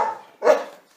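A dog barks twice in a short demo sound sample, each bark loud and close, with a brief pause between them and nothing else behind.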